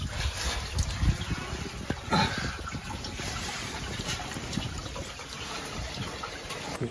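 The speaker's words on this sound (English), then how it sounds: "I got water running down my leg" Water trickling and dripping in a tight crawl space inside an old barn, faint splashes and dribbles under scuffing movement, with a sharper splash near the start, no talking.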